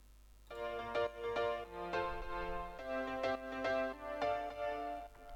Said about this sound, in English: Here is the other piano sound.